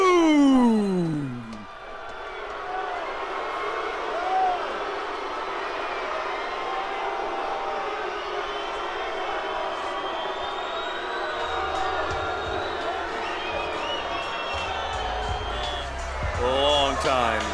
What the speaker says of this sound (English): The crowd, very vocal. The sold-out crowd here at the Orleans Hotel and Casino.